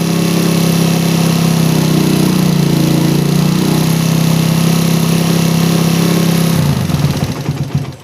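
A small motorcycle engine fitted with a PWK carburetor idles loudly and steadily as its air screw is adjusted, then stumbles and dies near the end with an uneven sputter.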